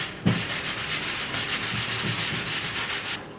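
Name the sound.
sanding edges of wooden block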